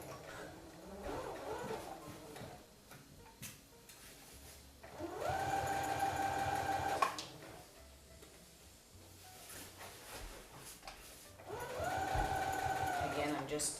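Sewing machine fitted with a feeder (walking) foot stitching heavy blackout drapery fabric, running in two steady whirring bursts separated by quieter handling noise, close up.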